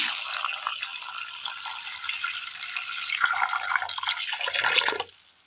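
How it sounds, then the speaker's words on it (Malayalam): Water poured from close by onto washed jackfruit seeds in a clay pot, a steady splashing trickle that runs for about five seconds and then stops abruptly. "അല്പം വെള്ളം ഒഴിച്ചു കൊടുക്കാം."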